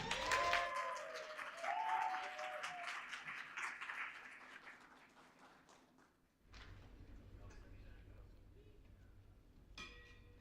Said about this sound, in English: Let us make a round of applause